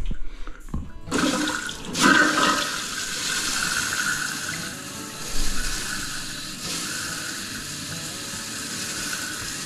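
Water surges through household pipes after being turned back on with a possible airlock: a few sputtering bursts after near silence, then a loud, continuous close rushing flow with brief surges.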